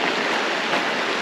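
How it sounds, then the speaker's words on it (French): An Icelandic river swollen with snowmelt rushes in a steady, loud, broadband roar of fast-flowing water, heard alone and unbroken. "C'est la rivière qui monte."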